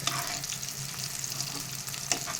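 Small potato punugulu fry in bubbling oil while a small spoon stirs them, a close, continuous sizzling crackle with faint scraping and light clinks, no voices.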